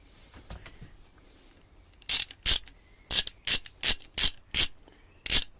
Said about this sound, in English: Again, it's a very tonal ratchet.